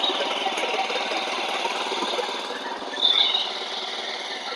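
A power weeder engine runs steadily while black gram is sown in a field, a continuous near mechanical drone holding at one level with a brief louder surge partway through.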